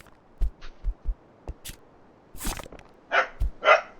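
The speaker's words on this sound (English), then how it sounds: "Yeah, the corgi has things to say." A corgi barking indoors: several sharp, close barks and yips in an uneven run, some quick doubles, separated by brief quiet gaps.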